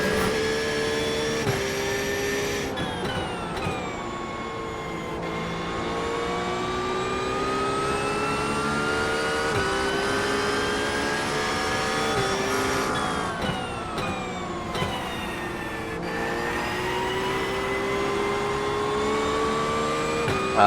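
GT3 race cars at Watkins Glen in the iRacing game howl continuously, close and loud, with engines rising through the revs and dropping sharply at gear changes and braking, several cars audible together.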